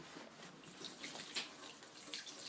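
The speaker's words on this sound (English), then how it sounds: "running water" Roof-collected rainwater runs from a cistern-fed sink tap in a backyard homestead, a steady faint hissing splash that continues without break.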